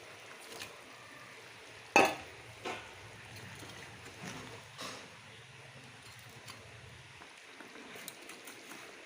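Pabda fish are dropped into a pan of spicy curry with eggplant and potato, making one sharp splash followed by a few softer plops and a quiet, steady sizzle and bubble.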